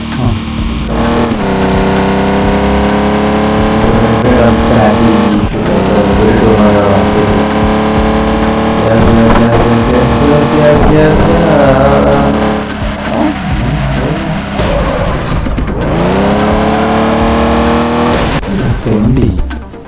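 A car in a multiplayer video game drives and revs continuously, its engine loud and close, climbing and dropping in pitch through repeated accelerations and gear changes.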